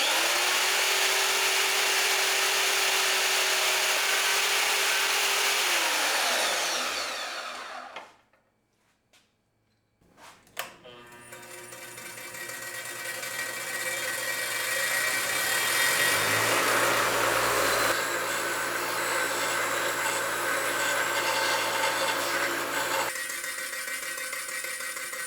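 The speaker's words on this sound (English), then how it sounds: "I'm using my my miter just to make sure I do a straight cut." A miter saw cuts a metal part for an antirock sway bar install on a Jeep LJ, with a loud sustained whine that stops briefly, then a second long, loud cut follows.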